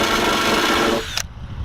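A power tool grinds into an OEM fender flare to cut out a hole, a loud, close, harsh grinding that runs for about a second, then cuts off sharply into a quieter rumble.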